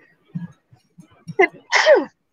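A single loud sneeze close by, preceded by a few soft murmurs and a quick intake of breath.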